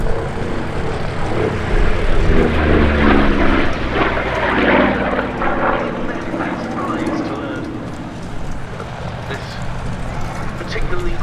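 Corsair and Bearcat warbird fighters at the Duxford summer airshow, with a sustained loud propeller-engine drone that swells and fades as they pass, a voice talking over it throughout.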